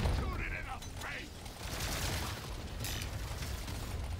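Rapid gunfire and mechanical weapon clatter from the video game Deep Rock Galactic Survivor, dense and continuous over a low rumble with sharp bursts scattered throughout.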